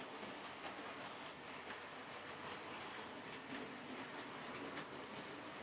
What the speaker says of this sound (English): There's the train going through now,